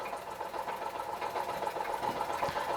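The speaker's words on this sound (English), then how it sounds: "it's nice to see these engines running" A Doll & Co No. 56 1/2 model steam engine, roughly a century old, running steadily with a fast, even mechanical chatter and hum throughout, no pauses.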